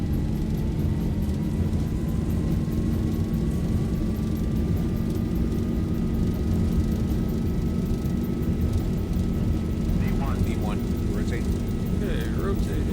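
Airliner engines at takeoff thrust in the X-Plane 12 flight simulator give a steady, loud, rumbling roar with a slowly rising whine, while a voice speaks over it.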